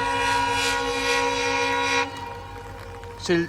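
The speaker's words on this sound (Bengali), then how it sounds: "এই ট্রেনটা হলো শিলচর গুয়াহাটি।" A Silchar–Guwahati passenger train at Badarpur in the Lumding Division, its steady rumble and tonal hum filling the first two seconds, then easing off before a brief horn-like blast near the end.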